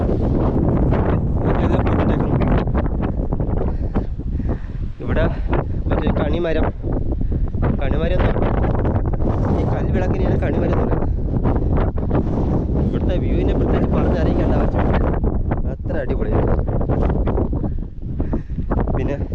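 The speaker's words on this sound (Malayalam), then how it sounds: "ഇപ്പോൾ കാറ്റുണ്ട് ഭയങ്കര കാറ്റൊന്നും ഇല്ലെങ്കിലും ചെറിയ കാറ്റുണ്ട്" Constant light wind on the Kalippara hilltop rumbling and buffeting the microphone throughout, with a person talking beneath the gusts.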